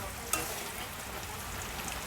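Onions fry in salted oil in a pan, giving off a faint, steady sizzle with one brief click early on.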